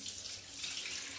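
A tap runs steadily into a bath with hot water, giving a faint, even gush of water that lasts the whole brief moment with no voices.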